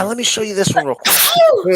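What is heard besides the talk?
sneeze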